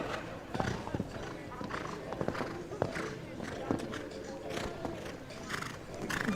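Show jumping horse hooves thud and clatter across the course at an adult show jumping championship in South Australia, a steady run of footfalls under continuous commentator talk.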